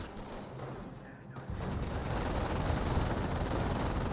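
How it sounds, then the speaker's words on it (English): An MG42 machine gun in Company of Heroes opens up in a sustained, dense rattle that starts after a brief quieter moment and continues steadily to the end, loud and noisy with no speech over it. "MG42 will find an angle and will start firing"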